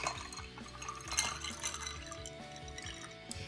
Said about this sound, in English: I'm just gonna pour it in a cup.